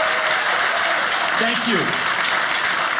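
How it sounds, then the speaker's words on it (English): A comedy club audience applauds school teachers with steady, dense clapping that fills the room, loud and continuous, while someone speaks briefly over it. "now have everybody join me quickly in a little applause"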